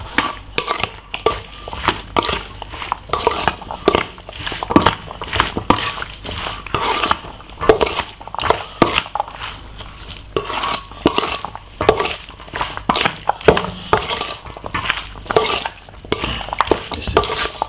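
A spoon scraping and clinking in a pot while stirring spicy curry chicken, irregular rapid knocks and scrapes continuing throughout at close range.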